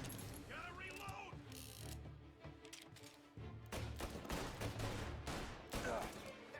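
Mechanical clicks and clacks of a gun being handled and reloaded in the video game Mafia: Definitive Edition, mixed with gunfire bursts and busy game sounds, fairly loud and dense throughout.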